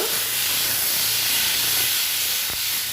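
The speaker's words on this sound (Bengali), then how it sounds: "চিংড়ি মাছটা যে ফ্রাই করে রেখেছিলাম সব কিছু দিয়ে দিলাম মশলাতে। ভালো করে কষিয়ে নেব।" Ridge gourd, potato and fried shrimp sautéing in spice paste in a pan, giving a loud, steady close hiss of sizzling with a brief scrape near the end.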